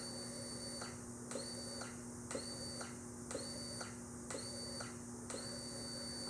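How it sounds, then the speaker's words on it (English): A Yamaha XV1700 Warrior motorcycle fuel pump cycles on and off five times, a faint whirring buzz starting and stopping at an even pace over a steady electrical hum. "you're going to hear your fuel pump kick on and off 5 times"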